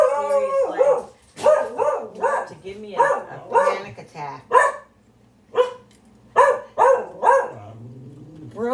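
A dog barks and howls indoors in a home kitchen, a run of loud, close bursts and drawn-out howls with short pauses between them, while someone talks over part of it.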